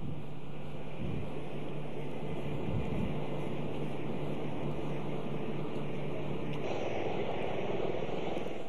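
Aircraft at the 41st Paris Air Show produce a steady, distant broadband roar mixed with wind buffeting the microphone, continuous and without clear peaks.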